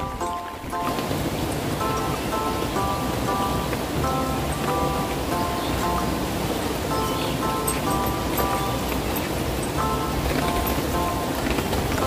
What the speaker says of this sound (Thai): อันนี้นะคะฝนตกกระหน่ำแล้วก็สาดมาแล้ว